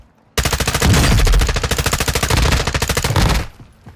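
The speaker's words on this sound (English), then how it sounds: "You are taking effective fire" Rapid automatic gunfire in Call of Duty DMZ, one sustained loud burst of evenly spaced shots that ends abruptly.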